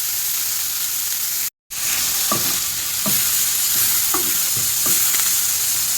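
Shredded cabbage and mixed vegetables sautéing in a pan for a stir-fried poriyal, a steady close sizzle broken by a short dropout and punctuated by several soft scraping stirs of a spatula.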